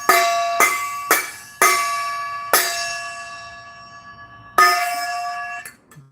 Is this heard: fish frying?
no